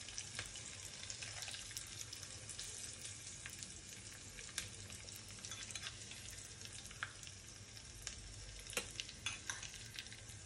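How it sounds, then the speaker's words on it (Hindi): Hot tempering with green chillies poured over sandwich dhokla makes a dense, continuous crackling sizzle heard close up, with scattered sharp pops throughout. "तड़के को हम इसके ऊपर डालेंगे।"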